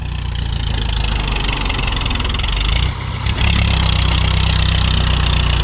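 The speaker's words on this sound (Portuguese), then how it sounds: "Estamos ali com o trator general" A General farm tractor hauls a heavily loaded trailer, its engine droning steadily up close, then dipping briefly and returning with a louder, fuller roar.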